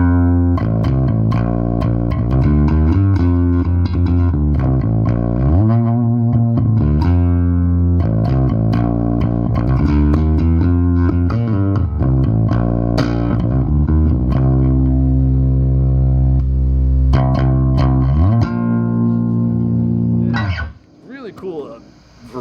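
Fender Jaguar Bass (CIJ) electric bass played with the treble turned all the way up, a loud, steady run of bright, twangy plucked notes that drops away near the end.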